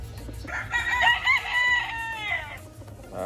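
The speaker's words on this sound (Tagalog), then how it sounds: "Broodcock ito." A broodcock rooster on a farm crows once, a loud, close, drawn-out cock-a-doodle-doo lasting about two seconds, with no talk.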